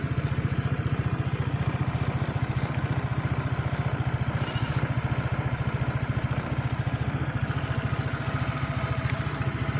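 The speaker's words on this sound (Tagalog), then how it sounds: "Ngayon parinig ko po sa inyo yung andar niya." Euro Falcon ADV motorcycle engine idling close by, a smooth, rapid, even putter with a steady low thrum and faint mechanical clatter, continuous throughout with no talk.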